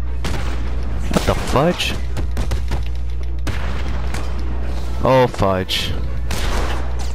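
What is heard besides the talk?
gunfire in Batman: Arkham City video game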